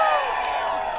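Crowd cheering and whooping at a party, loud and close, with steady shouting and a few high cries lasting the full second.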